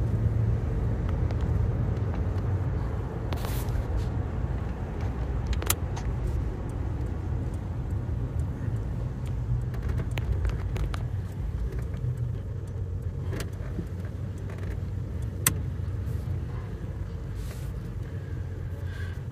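A 1984 Chevrolet Caprice Classic with 16,000 miles on a winter test drive in Western Pennsylvania, a steady low engine and road rumble from inside the cabin with a few faint clicks and rattles, no talking.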